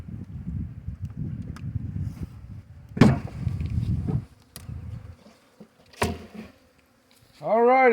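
A honey bee swarm buzzes during a hive install on a cold, rainy day, a low, dense droning hum of many insects up close, with a few sharp knocks and brief faint voices over it.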